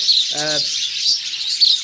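Budgerigar parrots in a cage chirping, a constant bright high-pitched chatter of several birds close by, with one short lower squawk breaking through.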